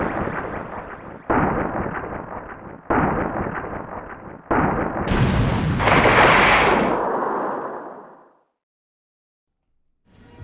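A PlayStation beat-em-up video game fires heavy, booming blasts of gunfire and explosions in repeated loud bursts. A long roaring blast then fades into silence before a brief final hit.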